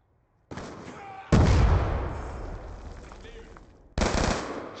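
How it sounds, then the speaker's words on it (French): A grenade explodes in the video game Black Ops II, a sudden loud blast that decays slowly, followed by another sharp burst of gunfire-like noise near the end. "Grenade lancée"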